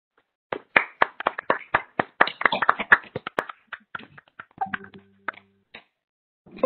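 A small group of online conference attendees clap through open microphones, sparse uneven hand claps that start after half a second, build briefly, then thin out into scattered single claps and faint noises.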